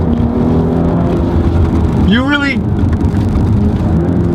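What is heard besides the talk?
2018 Audi S5 Sportback driving hard, all-wheel drive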